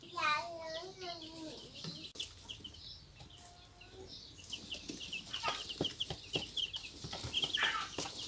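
Chicks in brooder boxes peep and chirp in quick high bursts, with a few clucks, close and fairly soft, while a person talks quietly early on.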